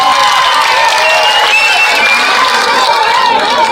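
A crowd at an outdoor political rally in the village of Bai near Gannaur cheers and claps loudly and continuously, a dense roar of shouts and applause with voices mixed in.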